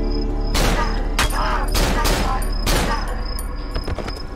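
Sniper rifle shots ring out in the horror video game Cry of Fear, four loud, booming reports spaced roughly half a second to a second apart, each followed by a ringing decay over steady game background noise.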